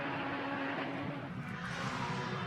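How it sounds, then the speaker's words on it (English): A 700-horsepower front-wheel-drive Honda race car with turbo parts at a time-attack event, its engine roaring steadily and loud throughout with a constant broadband drone and no pause. "Check out this little Honda, ladies and gentlemen. It is an angry little bit of gear."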